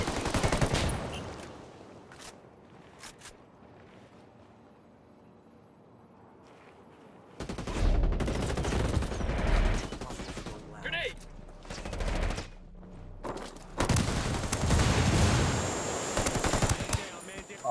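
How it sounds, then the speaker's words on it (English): Heavy automatic gunfire in the video game Ghost Recon Wildlands, a short opening burst, then a quiet lull before long, loud sustained volleys of rapid shots resume and keep coming in close waves, with voices talking over the fighting. "Taking heavy fire here."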